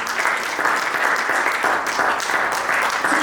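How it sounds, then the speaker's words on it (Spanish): A church congregation applauds during a sermon, producing dense, steady clapping that fills the space for a few seconds without pause. "Denle un aplauso al Señor."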